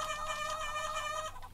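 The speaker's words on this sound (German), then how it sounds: "Kann ich mit dem Huhn reden?" A chicken in the video game Vampires Dawn 3 clucks continuously in a steady, close, full-sounding loop of game audio. No one talks over it.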